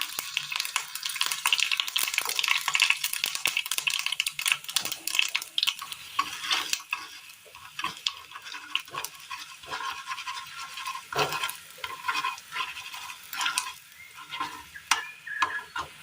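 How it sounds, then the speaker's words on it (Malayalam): Mustard seeds splutter in hot oil for a Kerala curry tempering, producing a dense, fairly faint crackle of small pops and ticks that thins out gradually. "ഇതിലേക്ക് നമുക്കൊരല്പം എണ്ണ ഒഴിച്ച് കൊടുക്കാം. കടുകിട്ട് കൊടുക്കാം."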